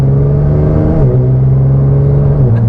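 A 2018 Nissan GT-R with a modified exhaust accelerates uphill, its engine droning loud and steady from inside the cabin, the pitch dipping briefly at a gear change.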